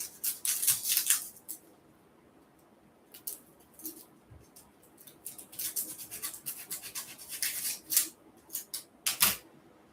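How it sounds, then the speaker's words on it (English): A knife slices the tip off an onion on a board, a scatter of soft close cuts and light clicks with quiet gaps between them. "I just cut just a little tip of it off of the onion"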